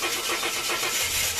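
A Ford Falcon that has sat unused for a while cranks over without starting: a steady, close, churning starter-motor grind under broad hiss, with no voices.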